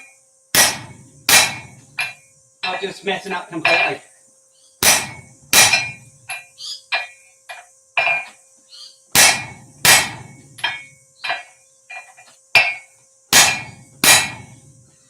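Heavy hammer blows ring out on hot metal at a forge while a hammer is being made, about a dozen sharp clangs at uneven intervals, with a brief flurry of lighter, quicker taps early on.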